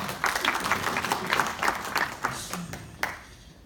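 A modest conference audience gives a short burst of applause, a few distinct claps standing out in the mix before it tapers off near the end.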